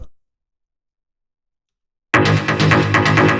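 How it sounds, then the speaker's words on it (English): A plucky techno donk synth bass from a track cuts in abruptly after two seconds of silence. It plays a loud, dense, driving pattern. "these are those kind of like plucky basses you hear in a lot of these tracks."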